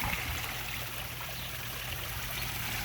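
Garden pond water feature trickling and splashing steadily, a continuous close wash of running water with no talk over it.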